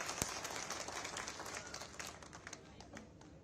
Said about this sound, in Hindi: तालियों की गड़गड़ाहट से स्वागत।